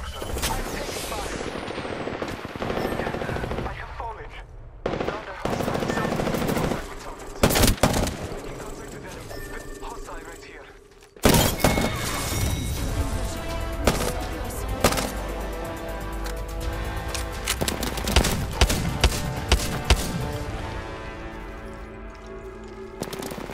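Video game gunfire in a battle royale match: sustained automatic bursts and single shots crackle in loud rapid runs, broken by brief pauses, with a voice talking over parts of it.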